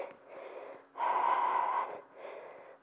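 Heavy, rhythmic breathing during a swimming-style workout: three long, loud breaths with the middle one strongest, close and with no talking.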